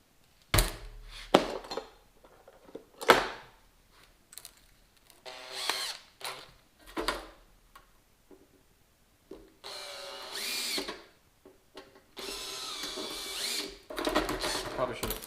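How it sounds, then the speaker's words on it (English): A step drill bores through thin sheet metal on a replacement tool box for a Kubota B2601 tractor, heard as repeated short bursts of whirring and grinding separated by pauses and clunks, growing longer toward the end. "this thin stuff I should be able to get through okay."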